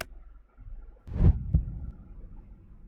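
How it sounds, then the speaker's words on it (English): Two heavy low thumps about a third of a second apart in the horror dating game A Date With Death, sounding like a heartbeat or footfalls, rising out of a quiet rumbling background. "It sounds like a heartbeat, but it also kind of sounds like footfalls."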